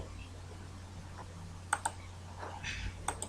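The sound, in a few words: typing on a computer keyboard while writing code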